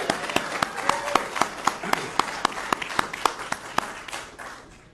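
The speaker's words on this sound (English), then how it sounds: "One more big round of applause?" A room of guests at a Nasdaq opening bell ceremony for Sensus Healthcare breaks into loud, steady applause, dense clapping with a few sharp individual claps standing out before it fades away.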